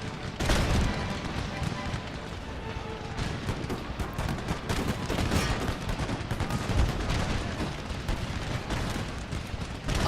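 Quicklime mortars and howitzers boom across an Empire: Total War battlefield, heavy repeated thuds and crackling fire layered densely and loud throughout, mixed with gunfire.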